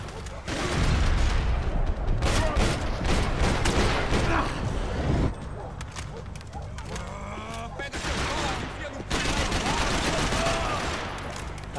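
Rapid gunfire bursts and scattered shots rattle through a firefight in Max Payne 3, dense and loud at first, then thinning into sporadic cracks and mechanical clatter after a brief lull.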